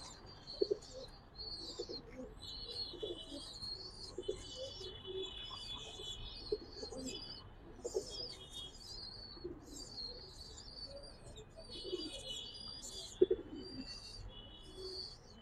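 Giribaz high-flyer pigeons in a loft give soft low coos, with frequent high chirps and twitters from smaller birds over a quiet background and an occasional brief flutter.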